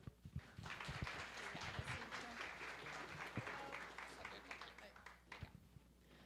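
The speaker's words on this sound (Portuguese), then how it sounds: "Então, eu gostaria de pedir uma salva de palmas para a Liciane." An audience at a Brazilian mobile tech conference talk breaks into applause, a dense spread of clapping with scattered louder claps that thins toward the end, with some voices mixed in.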